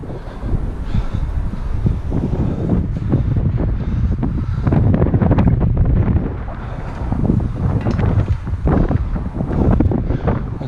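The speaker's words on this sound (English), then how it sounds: "It's very windy at the moment." Strong gusting wind roars and buffets hard against the microphone high on a construction crane, a loud continuous rumble with no one speaking.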